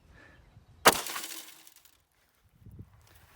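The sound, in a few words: Wilson Combat pistol shot through tempered vehicle glass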